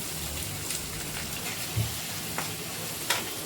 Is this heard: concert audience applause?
no